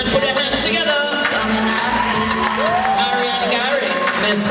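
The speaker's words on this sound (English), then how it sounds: "Keep the applause going as we welcome to the stage contestant number 5" Pageant audience at a festival queen show clapping and cheering for contestants, a steady crowd roar with scattered whoops beneath an announcer's amplified voice throughout.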